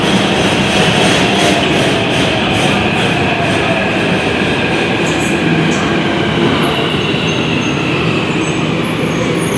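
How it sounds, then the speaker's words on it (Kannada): A metro train arriving at a station: a loud, continuous, roaring rumble of the train up close, with faint high squealing tones from the wheels and rails. "ಈಗ ಮೆಟ್ರೋ ಬಂತು ನೋಡಿ"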